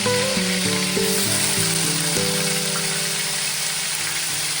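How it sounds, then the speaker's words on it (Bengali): Paneer cubes frying lightly in hot oil, giving a loud, continuous sizzle and hiss with dense crackling throughout and no voices. "পনিরটাকে আমরা একটু হালকা করে ভেজে নেব"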